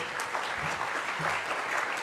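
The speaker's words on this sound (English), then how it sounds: "A round of applause for Harry." Steady, moderately loud audience applause following a talk at an environmental event, a continuous dense patter of many hands with no break.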